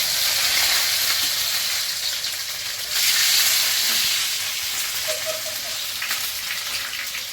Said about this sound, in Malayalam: ഇനി വറ്റൽമുളക് ചേർത്ത് കൊടുക്കാം ശേഷം നമ്മളൊരു അരമുറി സവാളയും കൂടെ ചേർത്ത് കൊടുക്കുകയാണ്